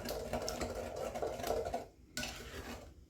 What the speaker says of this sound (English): Alright, let's get those all mixed up in here. Bust them yolks up.